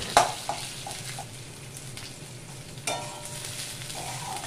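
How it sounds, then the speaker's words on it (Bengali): Chopped onion and garlic fry in hot oil in a wok, a steady close sizzle broken by a few sharp crackles and the scrape of stirring. "এবার পেঁয়াজটা লাল করে ভাজবো।"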